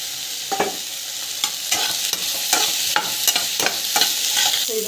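Two garlic cloves sautéing in a little hot oil in a pan while being stirred, a steady soft sizzle broken by repeated scraping strokes of a spatula, close and clear with no talk.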